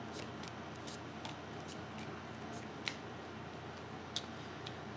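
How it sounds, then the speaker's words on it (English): Tarot cards being pulled from a deck: faint, soft ticking and snapping clicks scattered over a quiet background hiss, with one slightly sharper card snap near the end. "We'll pull out the cards like this."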